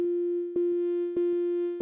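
Synth keys layering a sine wave with a quieter sawtooth wave, giving a smooth, steady tone with a slight edge; repeated notes are struck in a loose rhythm over a sustained pitch, clear and alone.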